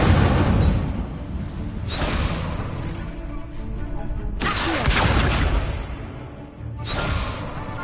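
The Incendio fire spell is cast repeatedly in Hogwarts Legacy, each cast a loud fiery whoosh with a booming burst. Four bursts land about two seconds apart over a continuous rushing background.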